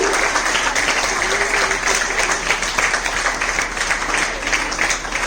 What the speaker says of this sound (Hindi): बच्चों के लिए बहुत जोरदार तालियां बजाइए